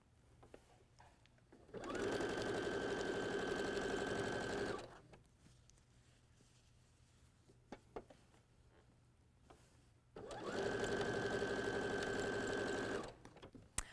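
A sewing machine chain piecing quilt patches runs in two steady, fast-stitching stretches of about three seconds each, close and even, with quiet pauses between.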